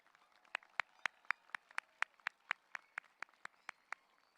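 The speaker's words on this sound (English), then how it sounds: "Let's give them all one more round of applause." Slow, evenly spaced single hand claps, about fifteen distinct sharp claps in a steady rhythm, moderately faint, at a high school commencement for graduating seniors.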